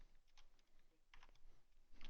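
Someone types an email on a computer keyboard: faint, quiet clusters of key clicks in short bursts separated by pauses, heard alone in a quiet room.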